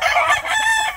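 An imported lazy round head gamefowl rooster crows once, close and loud, a single full cock-a-doodle-doo filling the moment with no voices.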